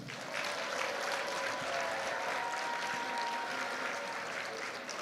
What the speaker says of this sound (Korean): 여러분 우리 목사님께 박수 한 번 해주십시오.